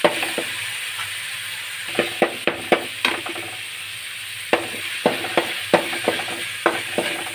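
Ginger-garlic paste frying for gobi manchurian, a low sizzle broken by sharp, irregular clacks of a spoon stirring against the pan, close and loud, with no talk.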